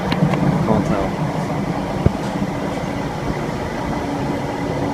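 Great Western Railway class 165 diesel train under traction, a steady broad rumble and drone running throughout with one brief sharp knock near the middle, heard from inside the carriage.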